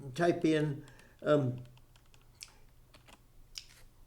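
Keys clatter on a computer keyboard as a URL is typed into a browser search bar, a quick run of light clicks following a voice speaking nearby.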